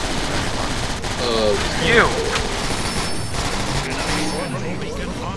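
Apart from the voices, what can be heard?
gunfire in Transformers War for Cybertron video game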